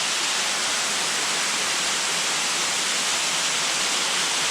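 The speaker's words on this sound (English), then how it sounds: "Just this waterfall, it's like a waterfall like the whole way up the trail." A waterfall beside the Mount Moosilauke trail pours steadily, a broad, even rushing hiss that holds constant throughout with no voices.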